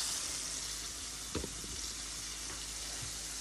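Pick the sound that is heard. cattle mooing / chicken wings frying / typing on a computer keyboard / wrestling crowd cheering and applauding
chicken wings frying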